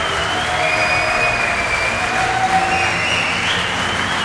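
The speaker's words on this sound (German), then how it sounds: "Ihr Applaus." An audience at a live star talk event applauds and cheers, a dense continuous wash of clapping with a raised whistle-like tone running through, loud and steady.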